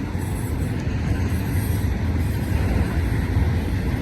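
A train rolls by on a main track at a double-track crossing, a steady, close, continuous rumble of wheels and wagons with no voices over it.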